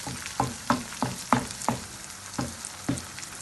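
Chicken for chicken mulakidichath frying in the oil released from the meat: a steady close sizzle broken by sharp, regular stirring scrapes about every third of a second.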